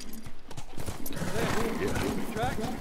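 A horse gallops in The Last of Us, its hoofbeats and a whinny audible under excited talking and game sounds throughout.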